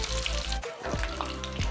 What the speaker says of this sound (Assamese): এনেদৰে ভালকৈ ৰঙচুৱা হোৱালৈকে ভাজিব।